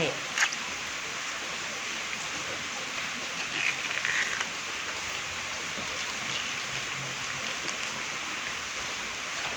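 Steady soft rain hiss throughout, a constant wash of falling water with faint scattered drips, with a brief voice near the start, while bamboo shoots are peeled by hand.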